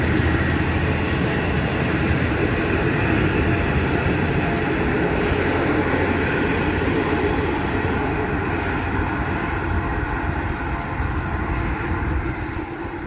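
A steady, loud rumble of a passenger train in motion on a journey toward Waurn Ponds, continuous broadband rail noise throughout with no pauses and no speech.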